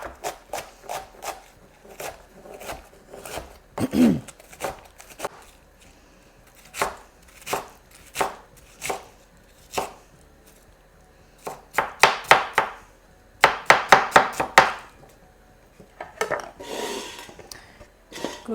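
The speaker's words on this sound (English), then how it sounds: "Just gonna take a little piece of this cabbage. And thinly slice it." A knife thinly slices cabbage on a board with crisp, rhythmic chops. The cutting comes in bursts of rapid strokes separated by pauses, and a faint scrape follows near the end.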